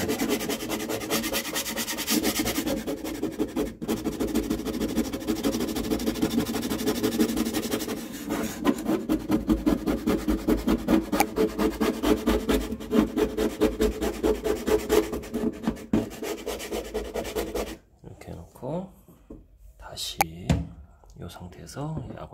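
A scraper blade scrapes gum, softened with Orange Solv GP solvent, off a surface in repeated rhythmic rasping strokes, with a voice talking over it before the scraping fades to quieter rubbing.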